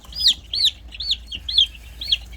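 Sultan chickens and their chicks call close by in a steady series of about five sharp, evenly spaced clucks and peeps over a low background hum.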